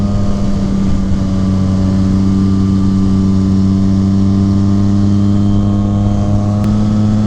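A 2019 Yamaha MT-09 motorcycle fitted with an M4 carbon slip-on exhaust idles close by with a deep, steady rumbling drone, loud and alone with no talking.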